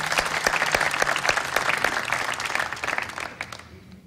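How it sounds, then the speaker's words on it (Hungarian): A crowd applauds with brisk, dense clapping that holds steady, then thins and fades out near the end. "Tapsot kérek."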